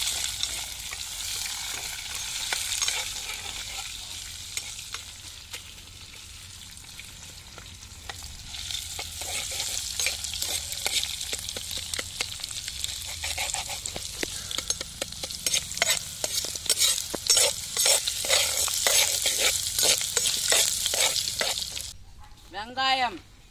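Garlic frying with spices in a village kitchen pan, a continuous sizzle and repeated stirring scrapes growing busier and louder, with voices talking over it at times.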